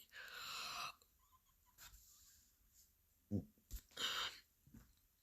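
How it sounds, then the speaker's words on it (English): A single soft yawn, drawn out and breathy, followed by a few quiet mouth and breath sounds in a near-silent room. "sorry, I just yawned"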